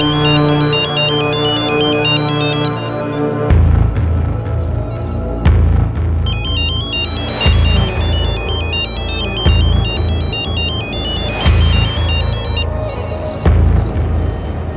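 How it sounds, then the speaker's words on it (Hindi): A mobile phone plays a loud musical ringtone: a repeating synth melody over heavy, regular bass thumps that pulse every couple of seconds, with no talking over it. "ये रे तेरा फोन है।"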